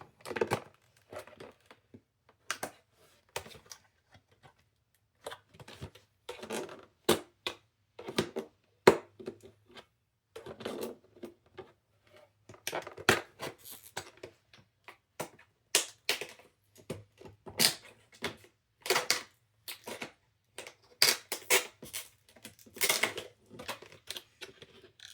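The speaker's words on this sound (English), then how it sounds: "it's just taking me a moment to cut through the packaging" Packaging of a new Nokia 2285 phone being cut open, irregular close crinkles, snips and tearing scrapes in short bursts with pauses between, fairly quiet and without speech.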